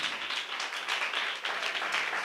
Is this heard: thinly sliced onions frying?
no